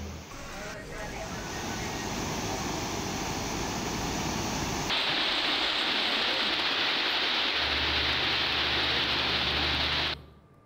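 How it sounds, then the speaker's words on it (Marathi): Heavy rain pours steadily in Tuljapur as a dense, loud hiss, its character shifting midway, with a low rumble joining near the end before it cuts off. "तुळजापूरमध्ये जोरदार पावसाला सुरुवात झाली"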